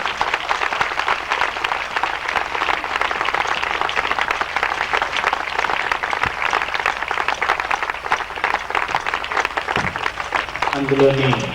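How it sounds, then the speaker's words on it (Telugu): A church gathering applauding: continuous, moderately loud clapping from many hands with a murmur of voices underneath, holding steady to the end. "చప్పట్లు కొడదాం అందరూ గట్టిగా."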